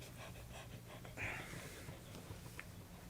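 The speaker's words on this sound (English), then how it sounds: "How come you're panting?" Faint, rapid panting from a dog nearby, a soft rhythmic breathing sound over low background hiss with a brief snort.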